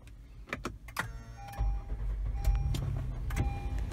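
A 2016 Acura MDX starts up after a few clicks and short mechanical clunks, then the engine catches and settles into a low, steady idle close by.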